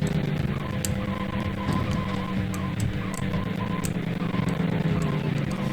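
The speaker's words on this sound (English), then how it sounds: "This game drifts hard." Car tires skid and screech continuously in a drifting racing video game played on a Raspberry Pi 3 emulation build, with a steady engine drone, loud and unbroken throughout.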